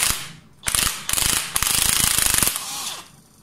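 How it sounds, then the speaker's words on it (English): A cordless impact driver hammers at the primary sprocket nut of a Triumph Trident T160 motorcycle engine during a rebuild, with several loud rattling bursts of rapid impacts separated by short pauses, close and alone. "I'm hoping that using the cordless impact driver, the shock is enough to free it."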